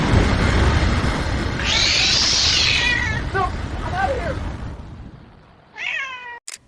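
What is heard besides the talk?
cat meowing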